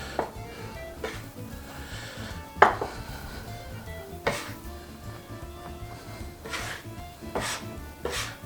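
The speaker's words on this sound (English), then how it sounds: "I kind of chop at it a little bit too to open up the moisture so it soaks in that" Flour being chopped into a moist mixture for homemade pasta dough on a work surface: several soft, irregular taps and scrapes, close by, spaced a second or two apart with no talking.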